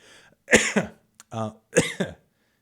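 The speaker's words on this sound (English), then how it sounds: "this cough is still hanging on" A few close, sharp coughs in short bursts, separated by brief pauses, loud against a quiet background.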